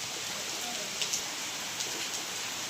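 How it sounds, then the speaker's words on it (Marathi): Heavy monsoon rain falls steadily outside a house, a dense, even hiss of drops on the ground and roof with a few louder splats, loud and continuous. "चांगला पाऊस चालू आहे"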